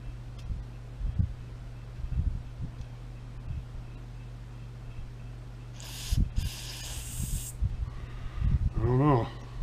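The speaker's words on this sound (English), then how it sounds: "then we'll use the almighty carb cleaner" Carb cleaner sprayed into a lawn mower carburetor in two short, close hissing bursts over a steady low hum, with scattered handling knocks around them.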